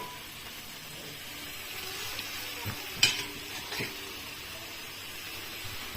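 Wide rice noodles stir-fried with chicken, carrot, egg and dark soy sauce give a steady close sizzle in a pan. A few spatula scrapes and clinks sound over the frying.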